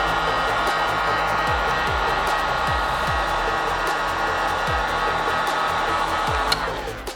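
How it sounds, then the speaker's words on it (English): A heat gun blows steadily and loudly up close while heating glue on a 1994 Nike Air Jordan 3 sneaker, a constant whooshing roar with faint clicking underneath that tapers off at the end. "grab your heat gun, and we need to activate this glue. So go ahead and heat this area really well."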